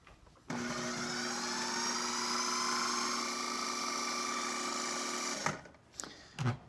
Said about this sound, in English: So we're gonna put the lid on here and we're gonna process it for about a minute.